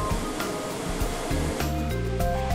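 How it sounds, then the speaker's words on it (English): Steady broadband water spray hissing over a Lexus RX during a factory water leak test, continuous and fairly loud with a low machinery rumble and tonal hum underneath, no talk. "and a major water leak test."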